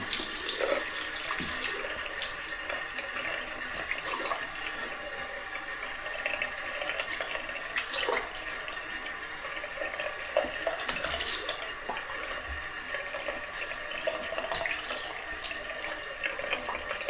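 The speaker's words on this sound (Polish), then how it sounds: "Słuchajcie, zimna woda." Cold water runs steadily from a tap, a continuous splashing hiss with occasional louder spatters, close by and without talk.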